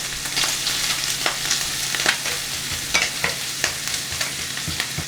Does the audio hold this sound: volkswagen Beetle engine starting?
no